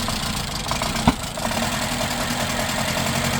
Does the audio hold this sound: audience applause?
no